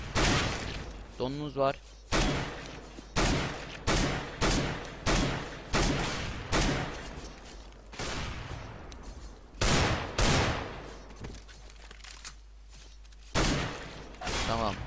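Rapid bursts of rifle gunfire in a CS:GO match ring out in repeated loud volleys, with short gaps between them, while a player talks over the shooting.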